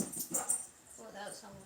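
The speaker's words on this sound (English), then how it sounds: "Yep, that's my dogs." Two dogs playing indoors, whimpering and yipping in short bursts, faint and close, with a person speaking over them.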